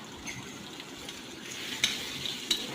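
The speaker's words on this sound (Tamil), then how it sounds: "அது நல்லா வதக்கி விட்டுக்கிறோம்." Large onions tossed with fennel seed tempering sauté in a pan with a soft, continuous sizzle, broken by a couple of light spoon scrapes and clinks near the end.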